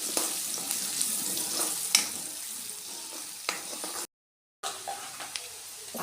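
Onion sizzling and frying in a pan with two bay leaves and two cinnamon sticks, a steady close crackle with occasional stirring clicks and a brief gap of silence near the end.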